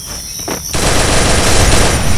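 Game gunfire in a battle royale match, a dense, loud burst of automatic fire that kicks in after a short quieter lead-in and keeps going without pause.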